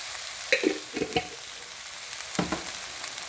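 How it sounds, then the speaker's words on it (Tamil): Lady's finger (okra) sautéing in oil over a high flame crackles and spits closely, with sharp stirring scrapes and pops standing out over a constant sizzle bed. "நான் இப்போ நல்லா ஹை ஃப்ளேமில் தான் வச்சு சாட் பண்ணுறேன்."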